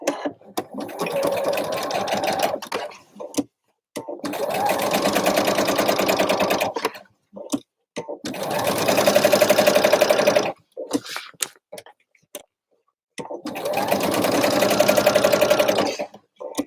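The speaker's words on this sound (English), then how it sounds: "You just run a line of stitching from the top of the facing, catching in that seam allowance underneath" A sewing machine runs in four long bursts, understitching a facing to catch the seam allowance, close and steady, with brief quiet pauses between runs.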